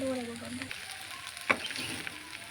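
Potatoes frying in a little oil in a pan, a soft continuous sizzle with one sharp clink partway through, a brief voice fragment at the start.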